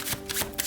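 Tarot cards are shuffled close up in a few quick riffling bursts, soft and papery, with no talk.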